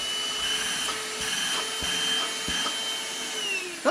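A Geemo cordless handheld wet/dry vacuum cleaner, 80 W with an 8.5 kPa single-speed motor, runs steadily nearby with a high whine and airy rush that stays constant throughout, no voices present.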